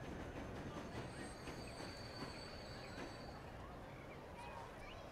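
Train pulling into Scarborough station in the Transport Fever game, a steady rumbling roll with faint high wheel squeals and quiet clicking, at moderate loudness throughout.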